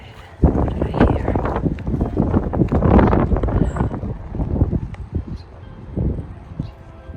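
Wind gusting during a nor'easter storm at an abandoned hospital, a rough, rumbling buffeting against the microphone that swells and eases over several seconds, loud and close, with a voice speaking through it.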